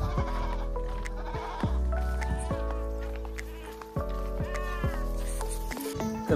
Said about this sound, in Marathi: समोरच बकरा आहे, तुम्ही बघू शकता.